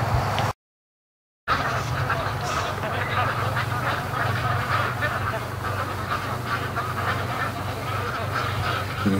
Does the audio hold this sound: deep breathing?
no